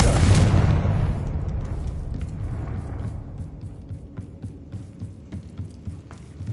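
A Confringo spell explosion in the Hogwarts Legacy video game: a loud, deep boom at the start that rolls and fades into a long rumbling tail with scattered crackles, no voices.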